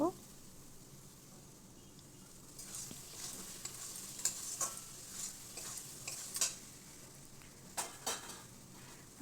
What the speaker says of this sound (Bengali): এভাবে আমি প্রায় পাঁচ মিনিট রান্না করে নেব